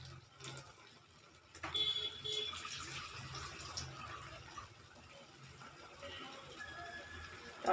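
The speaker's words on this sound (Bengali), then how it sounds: "আলুটা সিদ্ধ হওয়ার জন্য আর একটু জল দেব।" Water poured into a pot of potato and drumstick curry, a soft continuous splashing and trickle of liquid that swells after the first couple of seconds and then settles into a steady pour, close by with no talk over it.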